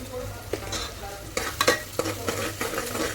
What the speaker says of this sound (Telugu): కొంచెం కలర్ వచ్చే వరకు ఫ్రై చేసుకోవాలి నేను ఇక్కడ ఒక స్పూను సాల్ట్ అయితే యాడ్ చేస్తున్నాను ఎందుకంటే తొందరగా ఆనియన్స్ కుక్ అవుతాయి